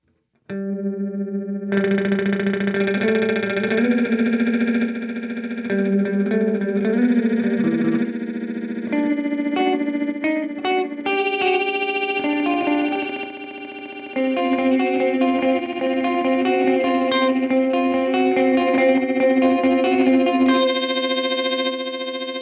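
Jazzmaster electric guitar notes and chords smeared into shimmering, stuttering fragments by a Cooper FX Arcades Grains granular effect, with sustained layered tones and brief gaps.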